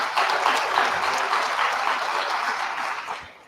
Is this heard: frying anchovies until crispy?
no